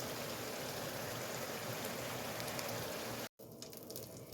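Grease drains off cooked ground meat for chili con carne as a steady, close, hissing pour, like running water, with a brief break near the end before it resumes more faintly.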